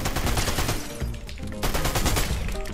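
Submachine gun firing in a video game, with dense rapid bursts of close, loud shots broken by a brief pause partway through.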